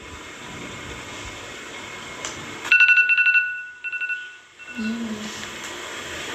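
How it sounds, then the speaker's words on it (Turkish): A telephone rings in a horror film, two loud electronic trills cutting through the quiet, the second shorter, before a muffled low sound follows. "Gidecekti telefon çaldı."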